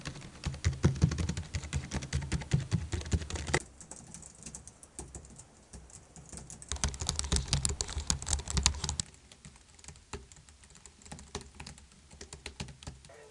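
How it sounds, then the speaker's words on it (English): A budget computer keyboard for an M1 Mac is typed on in steady, quick bursts of key clicks, close and fairly soft. It pauses briefly partway through and then resumes. "here is what the keys sound like"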